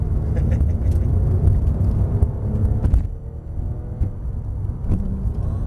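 A Porsche 997 GT3 RS accelerates at full throttle on track, its engine a loud dense rumble from inside the car that eases slightly after a shift midway, with scattered mechanical clicks.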